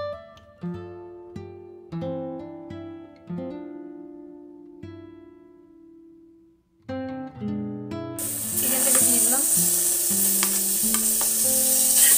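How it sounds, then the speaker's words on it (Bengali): Potatoes with cumin drop into hot oil and break into a loud, steady sizzle near the end, after a stretch of gentle piano-like music. "একটু জিরা দিয়ে দিলাম ফোড়নে, দিয়ে এবার আলুগুলো দিয়ে দিলাম"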